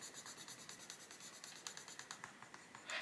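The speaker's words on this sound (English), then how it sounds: "You can hear the pencil, how it's sort of sticky rather than the dry" Graphite pencil scratching across paper while layering shading at the centre of a rabbit drawing, a close, faint, steady stream of short strokes with a slightly sticky drag, no talking.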